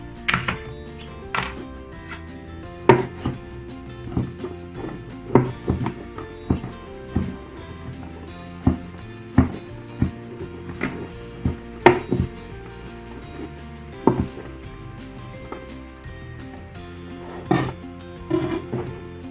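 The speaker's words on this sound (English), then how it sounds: "So I've some berries. I'm just gonna roughly chop it" Berries being roughly chopped on a board, with a knife striking in irregular sharp knocks, close and distinct over a quiet background, no speech.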